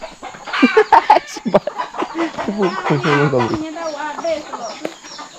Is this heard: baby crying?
no